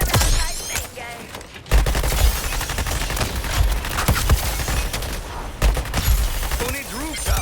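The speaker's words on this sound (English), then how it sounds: "Let the bullets fly, people." Rapid bursts of gunfire in the video game Suicide Squad: Kill the Justice League, loud and dense with booming impacts, running almost the whole way with a short lull near the start, under game music and effects.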